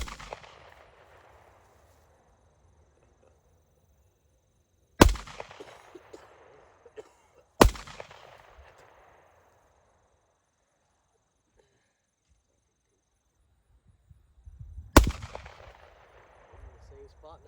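Handgun shots at an outdoor shooting range: a few sharp, loud cracks spaced several seconds apart, each followed by a ringing decay, with quiet gaps between them.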